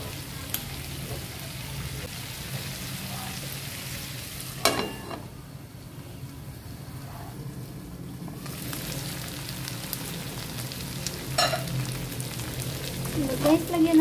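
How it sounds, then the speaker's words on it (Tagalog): Mincemeat pan-frying in oil gives a steady sizzle with occasional pops and stirring clatter, dipping briefly in the middle before returning. "So, ipan-fry natin para hindi siya maduro."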